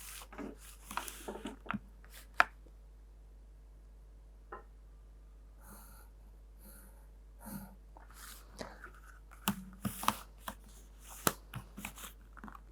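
A pencil scratching over a technical drawing in short, soft bursts, darkening the outline of a cut prism section; quiet, intermittent strokes with pauses, nearby.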